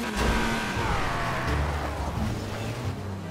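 A car in the Metropole RP video game drifts and revs, its engine note whirring and shifting in pitch under a low rumble, fairly quiet and continuous, with no talking.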